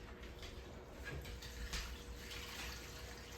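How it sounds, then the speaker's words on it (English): Water runs steadily from a tap into an Instant Pot, a soft continuous splashing and trickle, fairly quiet and close. "fill it up with water"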